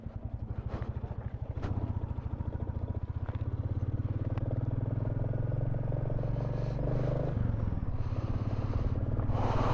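Motorcycle engine just cold-started on an early morning ride toward Leh from Padum in Zanskar, idling close by with a fast, steady thumping beat that grows slightly louder and shifts pitch near the end.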